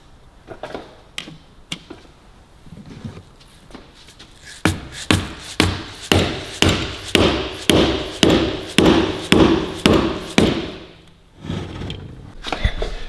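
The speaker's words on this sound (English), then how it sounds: "you put your flathead in there and then you tap this with a mallet and it should start separating the case half" A mallet taps a flathead screwdriver wedged into an engine block to split the case halves: a few scattered knocks, then a steady run of about a dozen sharp, close metallic hits.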